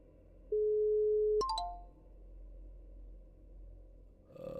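A Telegram call connecting: one steady electronic tone held for about a second, then a quick burst of descending chimes, followed by low background hum and a brief rustle at the end, with no talking.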